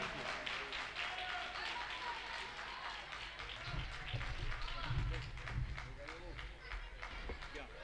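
A poetry recital audience breaks into sustained applause, a dense wash of many hands clapping that swells in the middle and carries on under scattered voices from the crowd.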